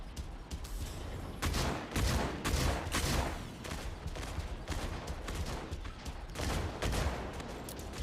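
Sustained rapid gunfire from a mech's gun in the video game Mech Arena, dense overlapping bursts of loud shots that keep pounding for several seconds without letting up.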